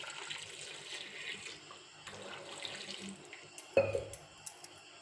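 Water poured steadily into a pot of heerekai (ridge gourd) sambar, a soft continuous rushing stream with a brief clunk near the end, close and moderately quiet.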